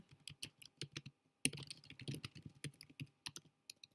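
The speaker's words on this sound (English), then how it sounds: "if you keep typing, I'll just randomly put some words here or some letters" Rapid, irregular clicking of keys on a computer keyboard, close and clear, with short pauses between bursts of typing.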